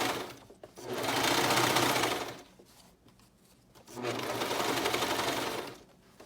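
A sewing machine runs in two long, steady bursts of fast stitching on a Tangerine dress, separated by a brief pause, close and fairly loud.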